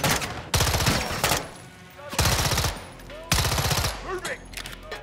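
Sustained bursts of automatic gunfire from a heavy gun in the video game Modern Warfare II, loud and close, coming in several long volleys separated by short pauses.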